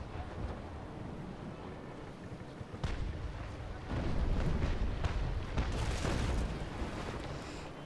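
Sailing-warship cannons fire in the naval battle game Naval Action, several heavy booming blasts rolling into one another over a constant rush of wind and sea, with no talking.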